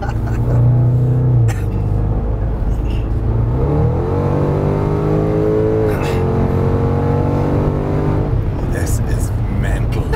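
A Range Rover Sport SVR engine revs and climbs in pitch, then settles into a loud, steady drone heard from inside the car, with someone talking over the engine noise.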